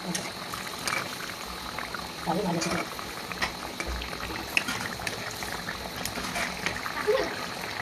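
Palm fruit pitha (tal pitha) frying and bubbling in hot oil, a steady close sizzle with occasional spatters, while someone talks over it.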